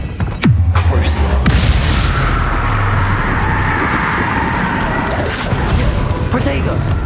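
A sharp magical blast opens the Crucio curse in Hogwarts Legacy, followed by a sustained crackling, rumbling energy stream with low booms and scattered hits, while a voice talks over it.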